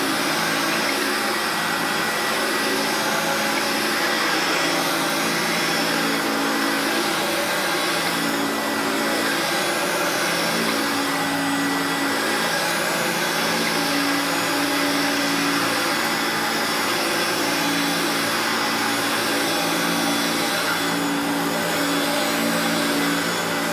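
A 1985 Hoover Turbopower U2196 vacuum cleaner runs steadily and loudly throughout, a continuous motor whine and airflow roar with no talk over it.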